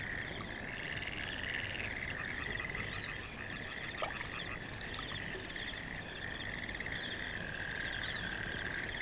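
A chorus of frogs croaking by the water, a steady dense trilling that carries through the whole stretch at moderate distance, with no voices.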